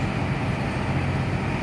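A train arriving at Hua Lamphong station in Bangkok, a steady low rumble of rolling rail cars, loud and continuous without pauses.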